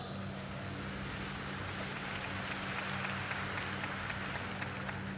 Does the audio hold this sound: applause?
yes